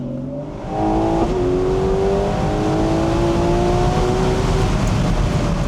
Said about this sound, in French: Ah, les accélérations, je vous assure, ça prend aux tripes.